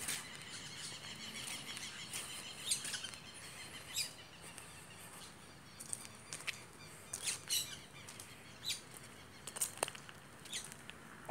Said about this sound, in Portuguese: Os periquitos ali nas árvores,